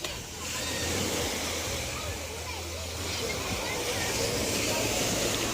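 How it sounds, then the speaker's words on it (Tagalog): Choppy sea waves rolling in, a steady broad wash of surf that continues for the whole clip without letup. "Ligo tayo ng dagat, guys. Maalon-alon na dagat."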